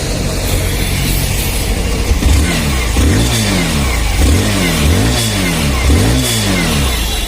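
A 2024 Hero Glamour motorcycle engine runs steadily with a soft, low, even hum, its pitch rising and falling slightly in a repeating pattern, close by with no talk over it.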